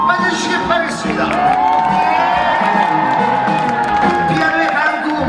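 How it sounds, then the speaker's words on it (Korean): A crowd at a concert claps, cheers and whoops, loud and close, with a sustained tone and voices threaded through the noise. "큰 박수로 맞아주시길 바라겠습니다"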